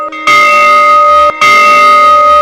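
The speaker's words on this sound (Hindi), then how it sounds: "और हवेली के बीच वो पुरानी घंटी अकेले हिल रही है।" Old bell in a haunted mansion, two loud sustained metallic rings with rich ringing overtones, separated by a short break.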